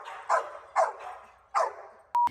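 A dog barks at a puppy class, four sharp separate barks spread evenly over a couple of seconds. The barks sound fairly close and stand alone, with no talking.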